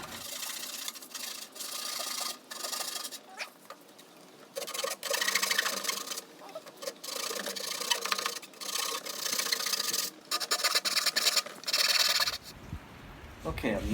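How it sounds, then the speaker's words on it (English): A Japanese pull saw cuts notches in wood for garage cabinets, with close rasping strokes in uneven bursts broken by short pauses, ending in a faint tail. "This Japanese pull saw is really nice"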